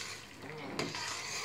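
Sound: spicy African tomato sauce sizzling in a pot

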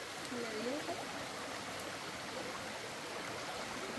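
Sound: river water flowing

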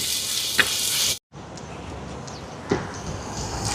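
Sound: onions and ginger garlic paste sautéing in pan

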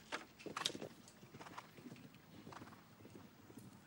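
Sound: show jumping horse galloping, hoofbeats

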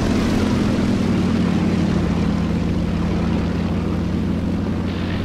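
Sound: propeller aircraft engine in a flight simulator video game

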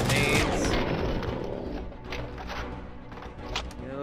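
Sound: turret gunfire in video game RoboCop: Rogue City

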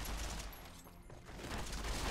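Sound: gunfire in the video game Fallout: New Vegas

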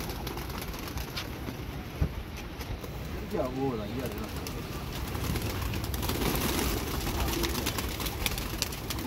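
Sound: pigeons cooing

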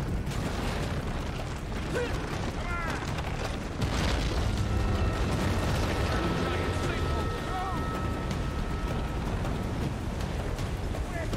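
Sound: place collapsing with explosions in Uncharted 3 video game

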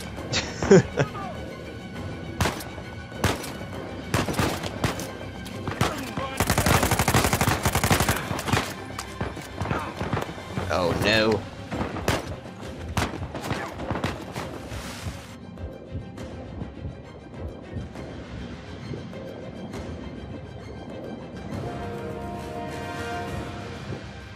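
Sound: shotgun gunfire in video game Uncharted 4

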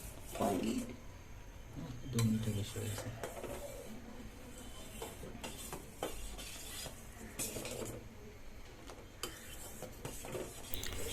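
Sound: stirring milk in a pot for malpua

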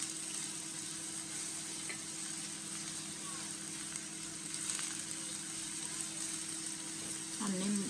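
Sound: onions frying in a pan

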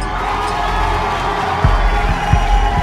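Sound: audience applause and cheering at dance finale

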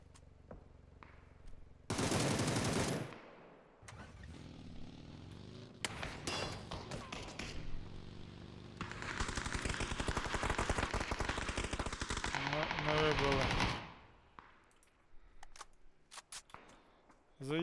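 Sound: gunfire in a video game

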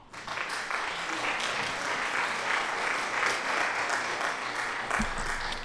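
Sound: applause sound effect

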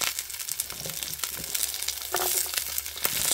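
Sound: onions and vegetables frying for vegetable broth

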